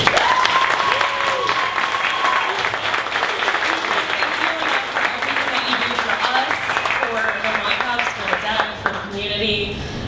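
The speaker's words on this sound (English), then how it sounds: "If everybody could give her a round of applause." A room of attendees at a Dallas startup meetup breaks into a warm round of applause for coordinator Edna's farewell, steady clapping throughout with voices and cheers mixed in underneath.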